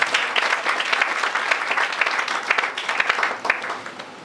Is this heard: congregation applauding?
yes